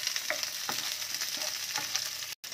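Onion and garlic fry in a pan for chilli capsicum while being stirred, a steady close sizzle with scraping strokes through it and a brief cut near the end.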